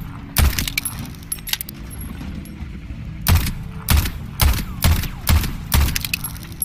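Gunshots in the video game Voidtrain: about seven sharp, loud bursts. One comes early, then a cluster of six fires in quick, slightly uneven succession over a low background hum.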